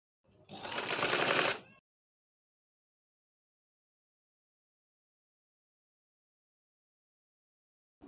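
A sewing machine gathers frock fabric for a round baby dress, making one short, fairly loud burst of stitching that lasts just over a second. Silence follows.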